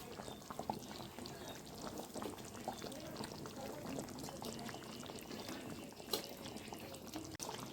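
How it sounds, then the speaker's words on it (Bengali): Fried katla fish pieces are slipped one by one into a boiling curry, with quiet bubbling, soft splashes and liquid burbles at low volume and no talking. "আমি এবার এখানে ভাজা মাছগুলো একটা একটা করে ছেড়ে দেব"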